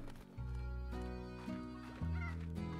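Chickens in the video game Slime Rancher cluck and squawk in a run of short, tonal calls, fairly close and steady, with no speech over them.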